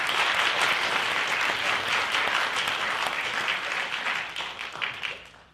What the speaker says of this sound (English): need to thank Joe DeVico and his wife, Judy, if you can applaud for them